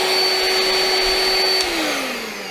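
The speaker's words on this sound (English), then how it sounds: "That means you can use this as a vacuum cleaner." A Milwaukee M12 cordless HEPA dust extractor runs with a loud, steady high whine, then its motor pitch drops as it starts to wind down.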